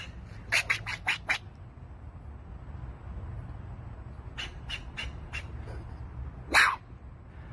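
An outdoor squirrel gives a series of sharp, rapid chattering chirps in short bursts, separated by pauses, over a low background rumble.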